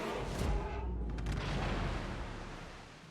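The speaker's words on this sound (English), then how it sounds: "Lots of shells falling on his deck." Naval shells crash onto a warship's deck in World of Warships, a dense run of heavy booming impacts and rumbling blasts that fades slightly at the end.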